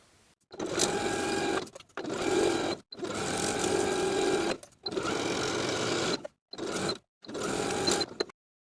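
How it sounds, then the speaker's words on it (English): A sewing machine stitches the band seam of a one-piece swimsuit in six bursts of fast whirring, each a second or so long, separated by short silent pauses, close and clear with no voices. "Then we can sew from one side of the back opening to the other with a 3/8 inch seam allowance all the way around"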